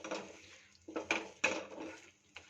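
Strawberry jam stirred in a pot, heard as several separate scraping and clinking strokes of a utensil against the pot, soft and close, with short pauses between strokes.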